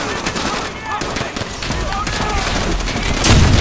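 Bursts of rapid gunfire and machine-gun shots in Call of Duty: World at War, loud and continuous across the moment, with heavier booms at the end and game action filling the background.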